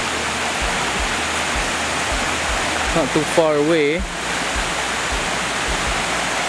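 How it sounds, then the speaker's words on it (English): River flowing near a waterfall, a loud steady broadband rush of water filling the whole scene, with someone speaking briefly over it partway through. "So we found a waterfall. Well, a river actually."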